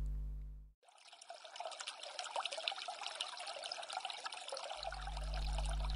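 Spring water trickles and flows steadily over rock, a bright continuous babbling stream heard alone, framed by a brief low musical tone at the start and end.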